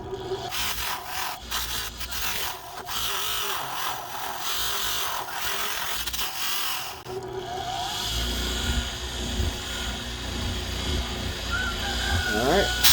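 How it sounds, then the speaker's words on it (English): Buffing wheel spinning against an aluminum water pickup tube for an RC boat, a steady loud grinding whir running throughout, shifting to a deeper, rougher hum partway through. "Buffing wheel."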